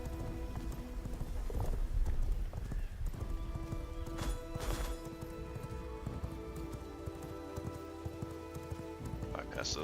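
A vampire horse in the game V Rising gallops with rapid, steady clip-clop hooves, close and continuous, over light game rain, with a brief whinny and faint game sounds.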